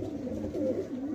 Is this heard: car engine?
no